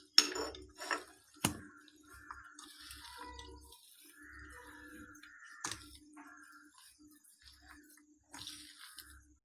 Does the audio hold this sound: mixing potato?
yes